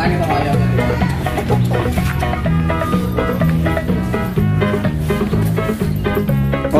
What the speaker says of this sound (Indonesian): ditantangin sama ayam.